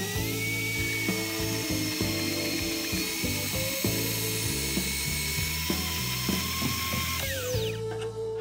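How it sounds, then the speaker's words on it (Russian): A hacksaw-type blade cuts through thin square metal tubing, a steady rasping, grinding stroke sound with shifting tonal whines, close and continuous for the whole stretch, no talking. "Попробуем квадратную трубу еще отрезать, что получится вообще."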